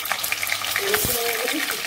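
Small paneer cubes fry lightly in oil in a wok with a close, steady sizzle and crackle, plus a brief stirring scrape midway.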